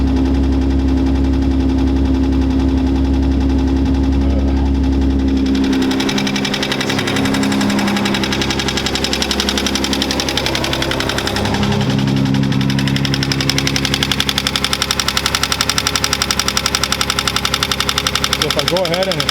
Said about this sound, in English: Right now it's idling at like 1500.